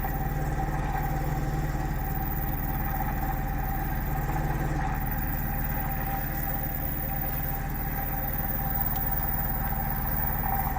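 Magnetic switching motor running at full power, a constant steady mechanical hum with a droning tone and no change in level, heard alone without voices.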